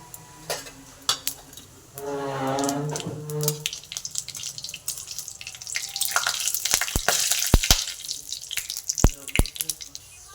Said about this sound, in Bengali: তেলটা গরম হয়ে এসছে এর মধ্যে আমি দিয়ে দেবো শুকনো লঙ্কা আর দেবো গোটা জিরে ফোড়ন